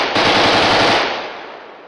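A loud, close burst of Kalashnikov rifle fire, rapid rounds merging into one dense rattling roar for about a second before decaying into an echoing tail.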